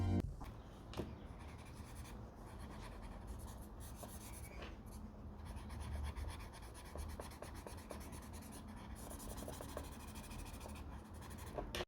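A blending stump rubs and scratches quietly on paper over pencil work, close-up, soft strokes repeating irregularly with brief pauses between them.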